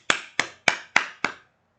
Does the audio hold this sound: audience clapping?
yes